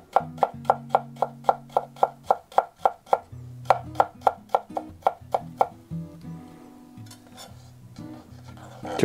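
A knife chops garlic on a cutting board for Chinese-style fried noodles with squid legs, quick steady taps in a regular rhythm, close and distinct, easing off toward the end.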